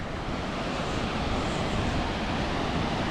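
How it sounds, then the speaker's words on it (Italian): Loud, continuous rushing water roars across the whole range, a steady broadband wash from a nearby mountain waterfall along the Transfăgărașan road in Romania. "Questa è l'altra cascata."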